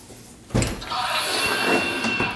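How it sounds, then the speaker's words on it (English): Passenger door of a DeLorean time machine replica swinging open with a sudden mechanical thunk, then a sustained whirring hum as it rises, close and clear with no talking. "So when I open this door,"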